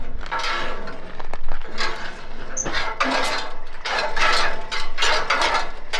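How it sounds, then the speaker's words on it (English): Gearbox on a hay rake turning as it runs, with both wheels tied into it to sweep hay into a row; a steady clattering, ratcheting mechanical rattle, close and continuous, with no talk. "they tie both wheels together and up into this gearbox, which then rotates this, which pushes all of the hay into a row"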